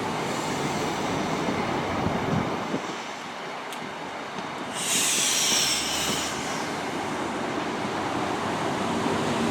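Class 43 high-speed train on the rail line at Chesterfield station, a steady broadband rumble of wheels and carriages with a brief higher rushing burst midway, no talk over it.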